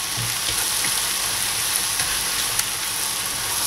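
Garlic frying in butter for garlic butter prawns, a steady soft sizzle with faint crackles running evenly throughout, close and moderately loud.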